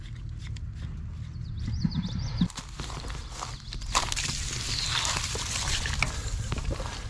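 A pump draws water through a check valve to fill up, making a constant, loud rushing and sloshing wash with small splashes and knocks throughout, and no talking.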